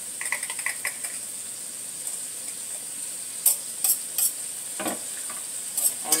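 Chicken breast and vegetables are stirred in a pan over a faint sizzle, with sharp scraping and clicking strokes of a utensil coming in irregular bursts, no talk.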